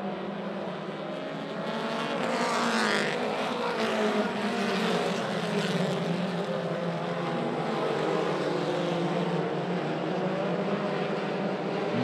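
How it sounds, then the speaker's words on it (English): Mini stock race cars lap a track in a continuous roaring blend of engines, steady and moderately loud, with one car's pitch rising as it passes nearer; no voices. "Michael Courtney holds on to the lead, going down the back stretch."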